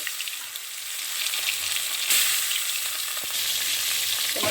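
Fish frying in hot oil in a pan, a dense, steady hiss and crackle up close that swells slightly partway through, with no voices.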